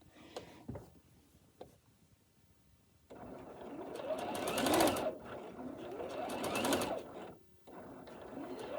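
A sewing machine stitches bias tape onto a shirt hem, running in two loud, steady bursts after a few faint handling clicks, with a short pause between the runs.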